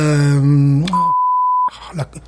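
A single steady censor beep cuts across speech, loud and flat for under a second, with talking before and after it.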